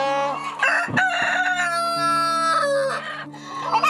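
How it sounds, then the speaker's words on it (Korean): Chickens cluck and a rooster crows loudly on a Korean poultry farm, the calls layered and continuous from close by, with no talk over them. "유소윤 씨 부부에게 닭은 자식이나 마찬가지입니다."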